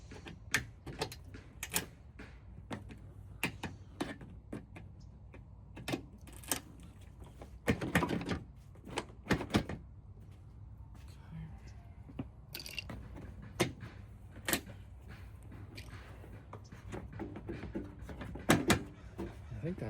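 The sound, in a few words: old plastic clips being pulled out of a Dodge Charger wiper cowl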